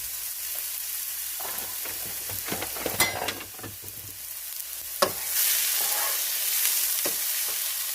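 Hashbrowns frying over medium heat in a pan, a steady close sizzle broken by repeated scraping stir strokes and a few sharp clicks, no speech.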